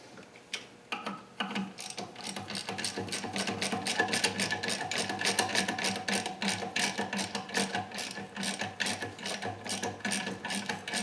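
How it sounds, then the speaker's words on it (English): A ratchet wrench with a socket clicks steadily while turning a bolt on a Nissan KA24DEAT engine under in-situ rebuild, rapid close ratcheting strokes in uneven bursts with no talk. "Ratchet. I'll use this socket."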